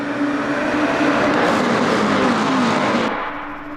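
A pack of race cars in Le Mans Ultimate, including a field of McLarens on the Bahrain circuit, roars off the line at the green flag: a loud, dense, continuous engine blare that swells steadily, then thins slightly at the end.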